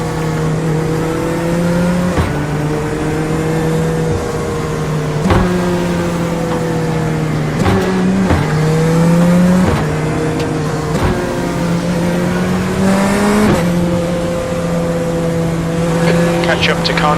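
Race car engines drone together at a rolling start behind the safety car in an iRacing game at Malaysia, a loud sustained hum that rises and dips with gear shifts and occasional tire squeal, under a voice.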